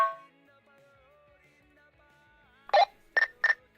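A voice imitates a thermometer's beeping with three quick, sharp vocal beeps near the end, after a quiet stretch and a brief murmur at the start, for a game sound effect.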